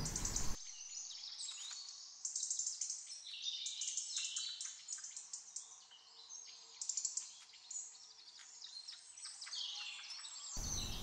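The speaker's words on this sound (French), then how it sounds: "ce bel oiseau coloré alerte tous les habitants en poussant un cri strident assez désagréable" A colourful forest bird in a Breton valley gives shrill, repeated alarm calls, bright chirps and harsh notes coming in bursts over about ten seconds at moderate distance, with a faint outdoor background and no voices.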